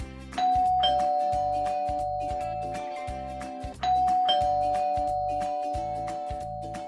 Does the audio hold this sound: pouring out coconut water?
no